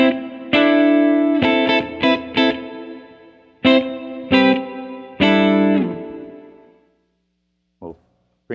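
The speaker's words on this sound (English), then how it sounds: "This reverb is smooth and rich, with a quick build-up in density." An electric guitar plays through a Strymon Flint digital reverb. Single notes and chords ring out smooth and rich, each followed by a decaying tail, and a few loud struck phrases fade into silence near the end.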